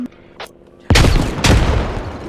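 A Russian grenade in a first-person shooter game explodes with a loud, close boom, followed by a second blast and heavy gunfire rumbling on after a faint earlier pop.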